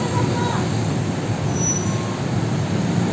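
Saturday-evening road traffic in Tibungco, Davao, around seven at night, a dense steady rumble of passing vehicles with a heavy engine hum, fairly loud and close.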